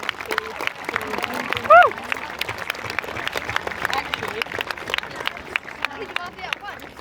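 A school veterans day assembly crowd claps for veterans, a dense patter of hands running steadily for several seconds, with voices and chatter mixed in.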